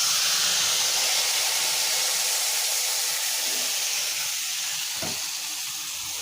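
Tamarind sour dish simmering in a pan, a steady broadband hiss and sizzle running the whole time without a break, fairly loud and close, with a faint soft knock near the end.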